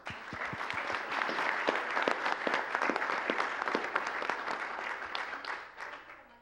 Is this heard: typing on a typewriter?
no